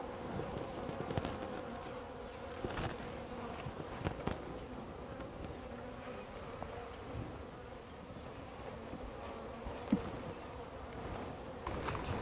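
Honeybees buzz steadily around a hive entrance narrowed with an entrance reducer, a dense continuous hum with individual insects passing close by now and then.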